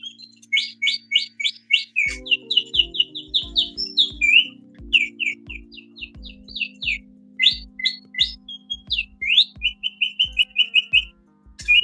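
An antique 120-year-old mechanical device imitates birdsong with rapid, high chirps and trills in short repeated bursts. A low mechanical hum and clicking run underneath, and the sound is loud and close.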